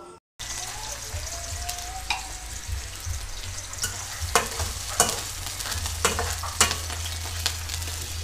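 Sardines fry in a pan with a steady, close sizzle, with scattered pops and clinks of a utensil stirring through it. No talking.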